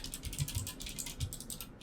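Quiet, rapid typing on an MSI Vigor GK50 TKL low-profile keyboard with tactile switches, a soft steady patter of keystrokes heard close up with no talking.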